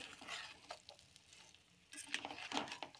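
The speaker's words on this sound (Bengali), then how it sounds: "এরপর এর মধ্যে আমরা আগে থেকে ভেজে রাখা আলু, পনির, মটর, ছোলা ওইগুলোকে দিয়ে মশলাটার সাথে ভালো করে আমরা কষিয়ে নেব আরেকটু।" Fried potato, paneer, peas and chickpeas sautéed with spice paste in a pan for a paneer curry, a faint sizzle with quiet, irregular scraping and stirring sounds that grow busier toward the end.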